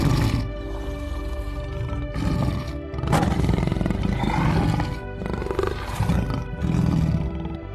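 Cartoon-style lion roars come in repeated loud bursts with short gaps between them, with no other sound.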